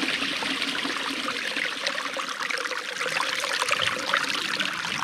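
Water running down and flooding a forest trail near a spring, a steady close rushing trickle that continues without a break.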